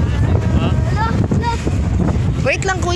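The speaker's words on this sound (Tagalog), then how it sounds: "Lakas ng hangin." Strong wind on board a ship buffets the microphone with a loud, constant roar while people talk over it.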